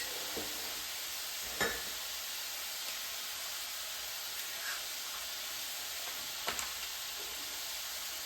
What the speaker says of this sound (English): I'm going to start cracking some eggs.